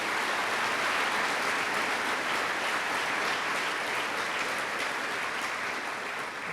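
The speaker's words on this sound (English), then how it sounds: "Round of applause, please" Sustained audience applause fills a military change-of-command ceremony hall, a dense, steady wash of many hands clapping at even loudness throughout, with no talking over it.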